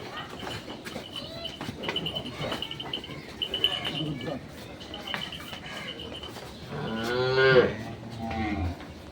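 Cattle at a dairy farm give a loud, drawn-out moo as a heifer calf is led out, following a stretch of quieter farm background with faint bird chirps, insect sounds and scattered voices.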